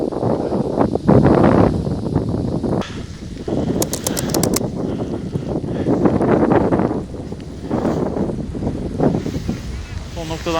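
Strong, roaring blizzard wind near the summit of Kızlarsivrisi mountain in Turkey, around -19°C, buffets the microphone continuously, with gusty rumbles and a brief high whistle partway through.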